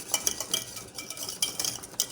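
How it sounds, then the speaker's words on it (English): Spoon stirring sugar into a custard mixture in a bowl, a close, steady run of light scraping and clinking strokes with soft rhythmic pulses and no voices. "Now I'm going to add in 4 tablespoons of sugar. I'm going to mix it."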